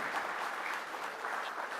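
A brief, dense burst of audience applause at a diaspora forum, many hands clapping steadily at moderate loudness with no pause or talking.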